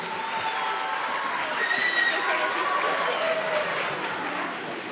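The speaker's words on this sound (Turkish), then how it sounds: "Arkadaşlarımızı alkışlayalım güzelce." A studio audience on a Turkish TV quiz show applauds the contestants with dense, steady clapping that fills the whole stretch at an even, fairly loud level, with faint tonal traces underneath.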